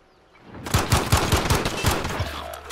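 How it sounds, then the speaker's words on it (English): Automatic gunfire in Call of Duty Modern Warfare during a gunfight tournament match, a close burst of about eight rapid, evenly spaced loud shots, then a short low rumble as it ends. "They're both just shooting me."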